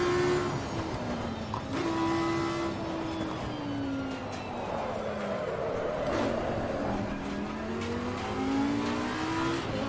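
A Bentley GT3 race car in Assetto Corsa Competizione, racing the Nürburgring, gives a loud, continuous engine drone that climbs and falls through the gears, with rising revs and shifts up close and no talk over it.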